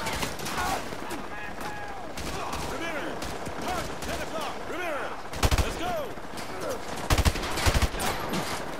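Gunfire in Call of Duty Modern Warfare 2, scattered rifle shots and short automatic bursts at varying distances, with sharper close cracks toward the end, amid whistling projectiles and battlefield chatter.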